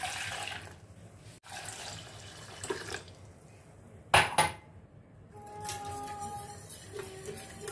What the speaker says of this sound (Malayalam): ഇനി ഇതിലേക്ക് 2 കപ്പ് വെള്ളം ചേർക്കാം